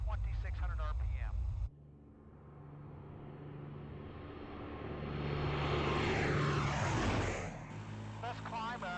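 Twin piston engines of a P-38 Lightning roar during climb-out, a loud steady drone that swells and peaks before easing slightly, with a voice talking over it at the start and end.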